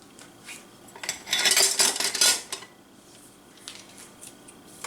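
Naan dough is laid into a hot, dry cast iron skillet, giving a short burst of crackly, metallic clatter and sizzle at close range, with quieter taps before and after.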